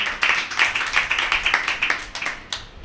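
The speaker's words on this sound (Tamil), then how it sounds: "ஸோ அவருக்கு ஒரு பெரிய கரகோஷத்தை கொடுத்துக்கோங்க." An audience at a bhajan gathering claps together in a steady, fast rhythm, about a dozen close, sharp beats in unison before tapering off with a final few claps.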